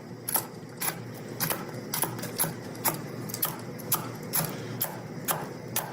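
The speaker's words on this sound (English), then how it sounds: "while you're chopping the nuts" Pistachio nuts being chopped with a knife on a cutting board, sharp regular taps repeating about twice a second, close and moderately loud with no talk.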